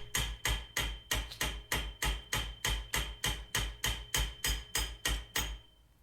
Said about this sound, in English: the answer is to just hammer it out though. So I'm just giving it light taps.